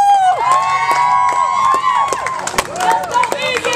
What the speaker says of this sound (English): Everybody cheer for Egan